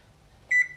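A single short electronic beep from an oven's control panel being set to bake, clear and close in a quiet kitchen, followed by the start of a second tone.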